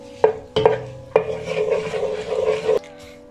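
Spoon scraping and stirring caramelizing sugar in a pot for Dominican chicken locrio, sharp clacks against the pot followed by sustained rasping strokes, close and fairly loud, with no talking.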